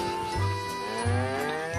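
Two low, drawn-out cow moos, each lasting about half a second, separated by a short pause, fairly close and clear.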